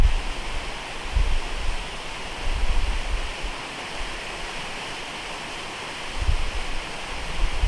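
A creek flowing near waterfalls gives a steady broadband rush of water, with occasional low wind buffets, continuous and moderately loud, with no voices.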